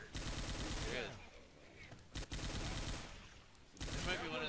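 Rapid machine-gun fire in Left 4 Dead, loud and dense in bursts with short lulls between, over a busy game soundscape.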